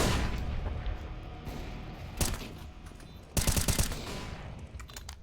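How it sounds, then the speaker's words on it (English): A flashbang grenade in a tactical shooter video game, heard as sharp bursts and a loud bang amid constant game noise and gunfire, with a second heavier cluster of blasts near the end. "Deploying flashbang."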